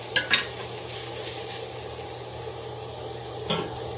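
Vegetables and bacon frying in a pan for homemade beef pies, a steady close sizzle with a few sharp clicks of a spoon or spatula near the start and again toward the end.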